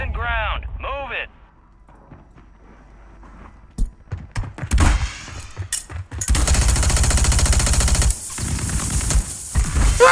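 SVA 545 rifle gunfire in the Call of Duty Warzone video game, loud rapid bursts of automatic shots in the second half after sparse single cracks, with voices talking over it.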